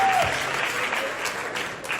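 An audience at the Miss DR Congo 2016 final applauds a contestant, a dense, even wash of clapping that holds steady and fairly loud for the whole moment.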